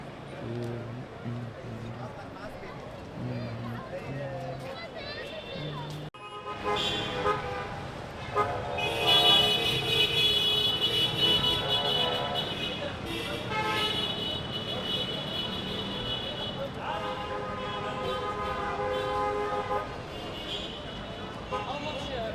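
Hectic street traffic in Cairo, Egypt, with car horns tooting repeatedly in short bursts and longer blasts over a busy roadway rumble, while someone talks over it.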